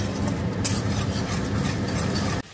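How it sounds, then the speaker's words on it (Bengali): Garlic for fried rice is stirred as it fries in a pan, a steady close sizzle with scraping strokes of the spatula that stops abruptly near the end. "সমানে কিন্তু নাড়বো।"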